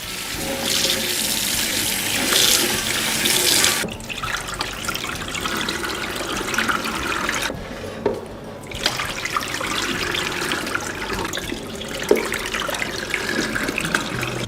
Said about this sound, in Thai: ล้างด้วยน้ำเปล่าสักสามรอบครับ